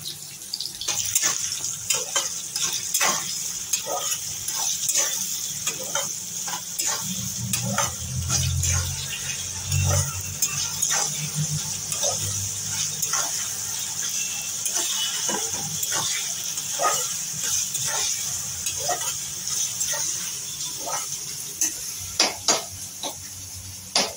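Onions fry in a pan for a jackfruit curry, with a steady hiss of sizzling oil and frequent sharp clicks and scrapes as a spoon stirs them, close and fairly even throughout.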